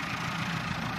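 A tractor engine idles nearby in a rural village, a loud, steady low rumble with no change in pace.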